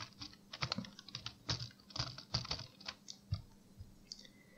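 Rapid keystrokes on a computer keyboard used to drive a Linux desktop and file manager, clicking in an irregular run of crisp taps, close and fairly quiet, with no voices.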